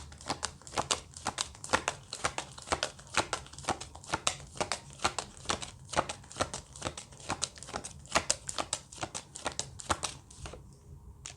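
Tarot cards being shuffled and handled, a steady run of crisp flicking and riffling snaps close by, repeating through the whole stretch with no one talking.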